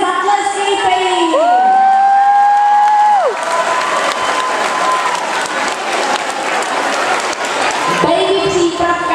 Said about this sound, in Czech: A už jsou tady, zatleskejte jim!